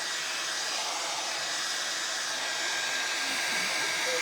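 A hair dryer blows steadily and close up for the whole span, drying a vintage cheese grater and tea-stained muslin Americana craft project, a continuous broadband whoosh with no talk over it.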